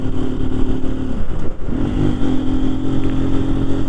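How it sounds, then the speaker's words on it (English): A motorcycle running with the snorkel removed from its air intake gives a deep, throaty intake note, loud and close, rising and falling as the throttle opens and the revs climb again after a brief dip. "There's definitely more tony with that snorkel off the intake, this bike. Just a little more deeper. And I, for one, love the sound of intakes."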